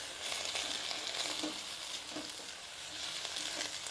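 Red amaranth greens sizzle steadily in a pan as a little water goes in, giving a loud, even crackle with soft stirring and hiss throughout and no voices.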